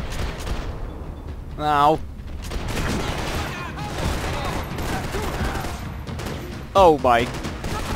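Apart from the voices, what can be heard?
gunfire in video game Max Payne 3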